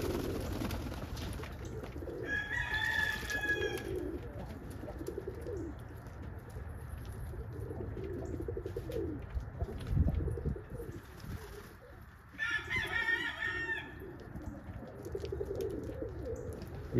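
Pigeons in a loft give two short bursts of cooing and calling against a steady background hum, with quiet spells between the calls.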